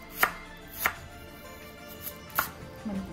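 A knife slicing an onion into thin strips on a cutting board for chicken chow mein, three or four sharp, widely spaced chops, close and quiet, with no voices.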